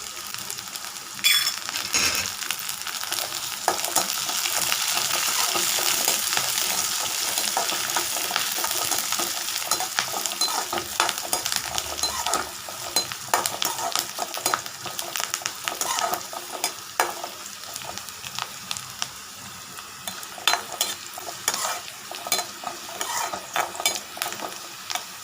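Curry leaves fry in hot oil for a curd vada curry, a loud close sizzle that settles into steady crackling, with frequent spatula scrapes and taps as they are stirred through.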